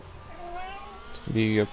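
A cat meows twice, a short high cry then a longer rising and falling meow, close by and under ongoing talk.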